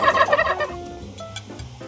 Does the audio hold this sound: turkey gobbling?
yes